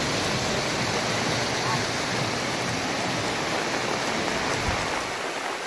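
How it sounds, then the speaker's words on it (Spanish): Heavy rain pours down on a city street at night in La Unión, a dense, steady roar of falling water that fills the scene without pause and with no voices over it. "Miren cómo llueve en la Unión."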